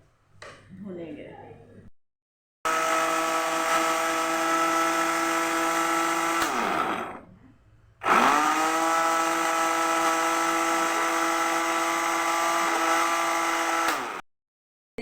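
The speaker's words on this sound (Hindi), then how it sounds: "अब ये तमाम मसाले को हम ग्राइंड करेंगे" An electric grinder whirs loudly through spices and fried onions for chicken biryani, running in two long bursts with a brief gap between them, after a short spell of kitchen noise.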